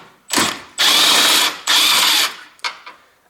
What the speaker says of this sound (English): there is one 10mm bolt and I have to take that bolt away